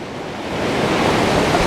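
Strong wind buffets the microphone on the beach at Padre Island National Seashore, a broad, constant rushing noise that swells slightly louder partway through.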